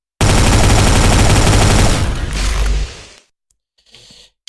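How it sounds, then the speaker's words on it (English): Classic plasma rifle from DOOM firing a loud, rapid stream of shots for about two seconds, then a fading mechanical tail, a short silence and a faint brief sound at the end. "Then we have the original, the classic, plasma rifle."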